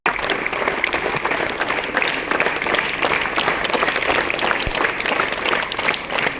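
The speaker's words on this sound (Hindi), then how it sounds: "तो जोरदार तालियां" Steady applause from an audience at a school sports competition speech event, dense continuous clapping held at an even level throughout with no voices standing out.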